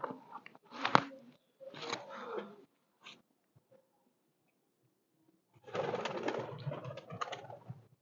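High flyer pigeons coo and flutter close by in short separate bursts, with a quiet gap in the middle before a longer, busier stretch of cooing and rustling.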